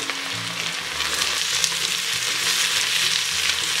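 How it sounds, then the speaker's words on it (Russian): Carrots, bell peppers and garlic sizzle and fry in a kazan, a steady close hiss of hot oil with faint stirring, no talking. "Отправляем в казан морковь, болгарские перцы и чеснок."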